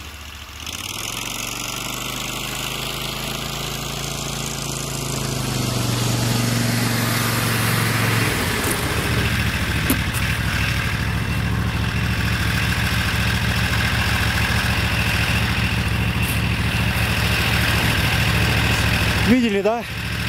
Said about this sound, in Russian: И вот смотрите, сейчас я проеду здесь, просто сидя на снегоходе.